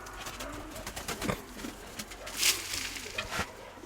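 Pigeons coo softly while grain is scattered for them, with brief pattering and rustling sounds close by.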